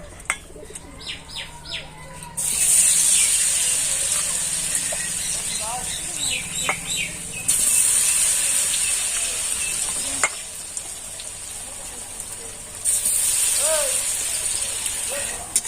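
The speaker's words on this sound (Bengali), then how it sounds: "এই ব্যাটারে দেব তারপরে আবার ভাজবো" Battered soybean chops frying a second time in hot oil, a steady bright sizzle that swells and drops in sections, with faint bird chirps and coos in the background.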